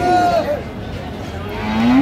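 At a Chittagong cattle market selling Sahiwal bulls, cattle moo loudly nearby in drawn-out calls, one falling and one rising, over a murmuring crowd.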